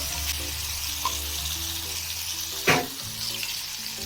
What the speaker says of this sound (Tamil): சிக்கன் வந்து கிறிஸ்பி ஆகிற வரைக்கும் ஃப்ரை பண்ணி எடுத்துடலாம்.